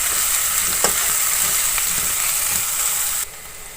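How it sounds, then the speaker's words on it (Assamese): Chopped onion and garlic stir-frying in a pan, a steady bright sizzle with occasional scraping stirs, close and continuous, dropping slightly in level near the end. "আৰু এইখিনিতে মই কাটি ৰখা পিঁয়াজ আৰু নহৰু। আৰু এইখিনি মই এতিয়া ধুনীয়াকৈ মিক্স কৰি ল'ম।"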